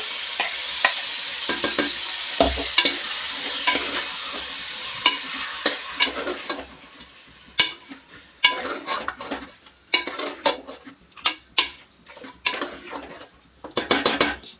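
Mutton frying in a pan with turmeric and onion, a steady sizzle broken by scraping and clinking stirs that grow more frequent and sharper toward the end, up close with no voices.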